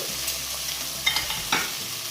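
Sliced snake gourd is stirred in a hot pan with curry leaves, sizzling steadily while a few sharp spoon scrapes and clacks stand out, close and without speech.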